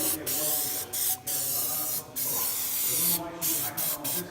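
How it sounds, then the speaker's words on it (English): Repeated bursts of aerosol spray hiss, each a second or so long with brief gaps between, loud and close, as car rims get coated. "I'm gonna spray the other 3 rims"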